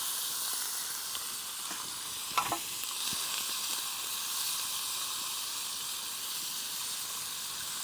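Shrimp sizzle in a pan at a campsite, a steady close frying hiss that runs throughout, with a brief metallic clink partway through and no talking.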